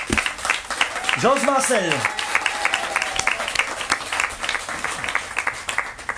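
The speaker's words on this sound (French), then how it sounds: "j'aimerais qu'on applaudisse très fort les enfants de la classe de CE1" Applause for a class of CE1 schoolchildren at a ceremony naming a playground, a steady, crisp crowd clapping heard throughout, with a voice speaking briefly over it early on.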